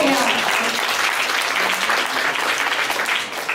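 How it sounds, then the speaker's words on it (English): Steady audience applause fills the space at a talk, dense and continuous from start to finish with no break, while a few faint voices show through underneath. "pass along the applause."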